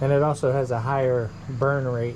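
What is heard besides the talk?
No distinct noise like a dog, phone or traffic.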